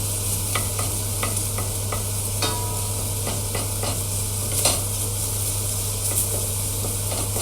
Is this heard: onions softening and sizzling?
yes